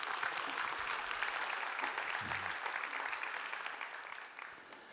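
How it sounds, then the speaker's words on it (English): Church congregation applauding during a Christmas service, a broad even roar of clapping heard from a distance that fades slightly near the end, with a brief voice. "You got to clap for that."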